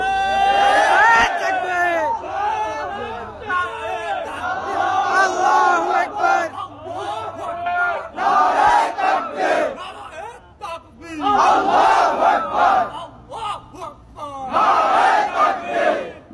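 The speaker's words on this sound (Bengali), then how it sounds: "নারায়ে তাকবীর স্লোগান হচ্ছে বাতিলের আতঙ্ক" A large crowd chants the Nara-e-Takbir slogan in loud, repeated call-and-response bursts of massed voices, rising and falling over several rounds.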